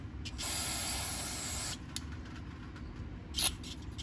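An aerosol can sprays in a steady hiss for just over a second into the carburetor of a 2017 Yard Machine 140cc Briggs & Stratton lawn mower, followed by two short, quick spritzes, all fairly quiet and close.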